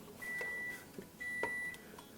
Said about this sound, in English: There's my 5-minute timer.